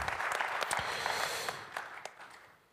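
Audience applause at an SEO awards ceremony in Paris, a dense wash of clapping from a crowd at moderate level that thins out and fades over its final second.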